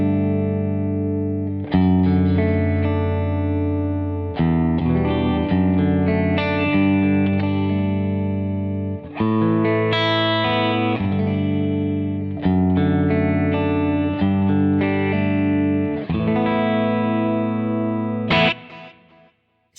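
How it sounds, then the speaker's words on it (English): Electric guitar played through delay and reverb effects, loud sustained chords and notes with echoing repeats and a washy tail, ending with an abrupt cutoff. "If I add the delay before it, so turn the delay on."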